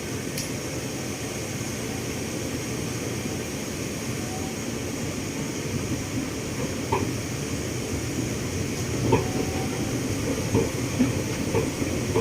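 Steady rumble and hum inside a Bangkok Yellow Line electric train travelling toward Lat Phrao 83, a constant cabin drone with faint clicks and rattles throughout and no talking.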